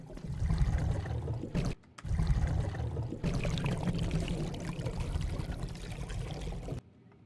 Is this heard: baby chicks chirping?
no